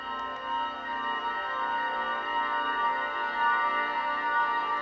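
Sustained synth pad stretched with Paul Stretch, EQ'd and run through a crystallizer, a dense, steady drone with many layered tones and a shimmering high end, moderately loud and unbroken throughout.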